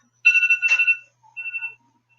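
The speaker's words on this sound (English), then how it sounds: "Sorry, my phone is going off." A mobile phone ringtone sounds in two short melodic bursts, the first longer and louder, the second briefer. It rings alone and close by during a live Q&A session, with no talk over it.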